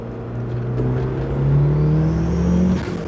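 A Mitsubishi Eclipse GSX with a turbo engine and bolt-on upgrades revs up hard as the boost kicks in, a loud, close, rising engine note that climbs steadily and then drops off near the end.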